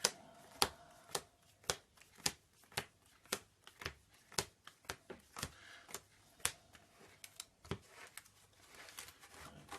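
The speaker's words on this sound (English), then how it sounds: "Shuffle the deck." A deck of playing cards is shuffled during a solo tabletop game session, giving a steady series of sharp riffling bursts roughly every half second, close and clear with no talking.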